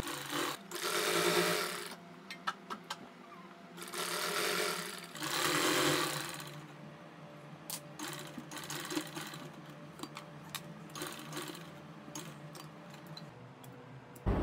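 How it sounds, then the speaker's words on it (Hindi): A sewing machine runs close and fairly loud, stitching a fitting seam on a garment in bursts of steady whirring separated by quieter pauses full of light ticking and fabric handling. "अब इसको यहाँ मैं फिटिंग वाली सिलाई लगाने लगी हूँ।"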